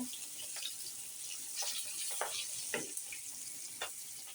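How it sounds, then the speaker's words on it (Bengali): Hilsa fish frying in a pan, a quiet, sparse crackle and sizzle with scattered popping bursts of hot oil, close but faint, with no talking. "ইলিশ মাছ ভাজতে আসি আর ভাজতে ভাজতে তো একদম সেরাই হয়ে গেছে"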